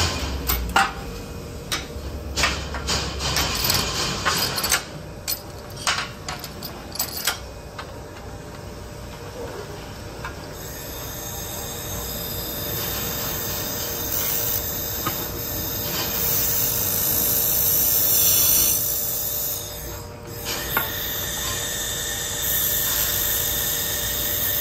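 A LightWELD handheld laser welder welds an inside corner of metal, giving off a sustained high whine and hiss with crackling, clicking bursts early on, then a steadier continuous hum. There is no speech.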